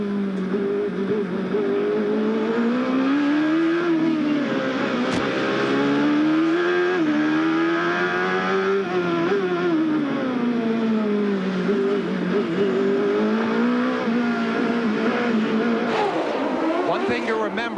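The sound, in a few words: CART race car accelerating through the gears at Long Beach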